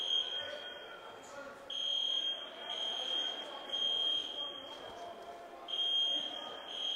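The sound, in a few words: fire alarm going off in an arena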